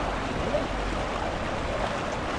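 Strong current rushing through an old dam after heavy rain, a dense, steady roar of flowing water that never lets up, with faint voices in the background.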